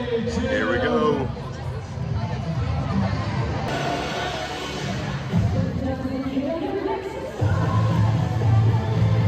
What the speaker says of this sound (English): they're playing music, and people are cheering and talking amongst each other